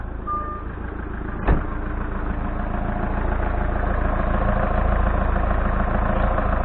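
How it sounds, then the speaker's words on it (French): Automatic gearbox of a 2008 Citroën C5, an Aisin AM6 TF80SC, running during a transmission fluid flush with one wheel off, a steady loud mechanical hum with a single sharp clunk early on. "donc la boîte tourne"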